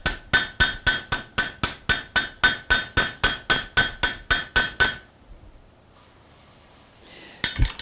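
Steady hammering on a rivet in a forged barbecue spoon, about sixteen sharp metallic blows in an even rhythm, loud and close, then a quieter pause with faint workshop noise and a final clink.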